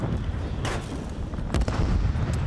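Frag grenades go off in the distance during a Call of Duty League match, two or three dull booming bursts spaced apart over a constant rumbling game background.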